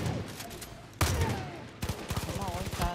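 Gunfire in the video game Far Cry New Dawn, arena fight: sharp shots at the one-second mark, then a rapid run of repeated bursts, with someone talking over parts of it.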